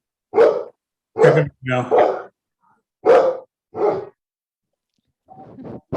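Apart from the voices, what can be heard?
dog barking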